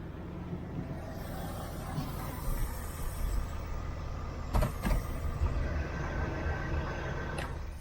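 A cheap old van with 130,000 miles runs down the road, a steady engine rumble with road noise and a few clunks and rattles inside the cab.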